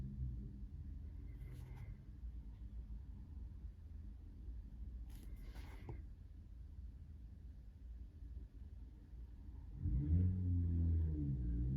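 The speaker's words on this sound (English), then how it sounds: "The car sounding a bit ill outside." A car engine runs outside in an ailing condition, heard as a steady low rumble behind the room, with a couple of brief higher rattles and a louder, closer engine surge near the end.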